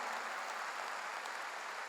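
A church congregation claps during a Sunday worship service, a faint, distant and steady wash of applause that continues evenly from start to finish.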